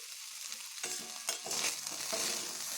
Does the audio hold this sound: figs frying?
yes